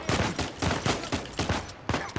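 Rapid gunfire from a shootout in the video game Uncharted 4: repeated loud bursts of automatic fire, about a dozen sharp cracks in quick succession with brief gaps, close and dense throughout.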